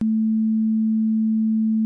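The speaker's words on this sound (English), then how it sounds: "a very short attack gives you like almost blippy, punchy," A single synthesizer note with a very short attack sits as a pure, steady sine-like tone, loud and alone, starting abruptly and holding evenly for about two seconds.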